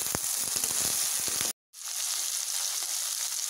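Okra slices sauté with salt in a pan, making a close, steady sizzle punctuated by scraping stirs, then a moment of silence before the frying resumes evenly.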